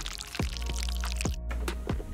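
Homemade hair detangler is poured from one vessel into a container in a continuous stream, with rising glugging pitch sweeps as the liquid fills, close and fairly loud.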